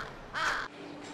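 Crows in Sapporo, a single loud harsh caw rising out of quiet background noise and ending abruptly, close by.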